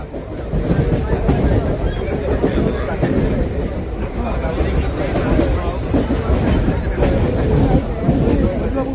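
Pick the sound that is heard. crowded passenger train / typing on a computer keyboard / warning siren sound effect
crowded passenger train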